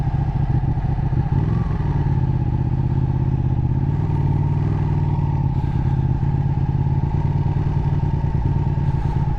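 A Ducati 1299 motorcycle runs steadily while being ridden, a loud, close, continuous engine drone with low rumble and slight rise and fall in pitch, heard alone without talk.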